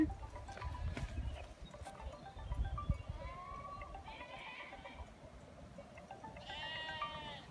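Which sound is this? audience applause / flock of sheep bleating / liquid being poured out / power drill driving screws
flock of sheep bleating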